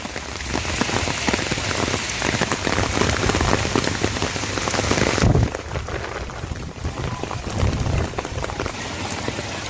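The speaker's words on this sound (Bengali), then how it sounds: "ঝমঝমিয়ে বৃষ্টি পড়ছে।" Heavy rain pours down steadily and loudly close by, a dense continuous hiss of drops hitting surfaces with no break and no voices.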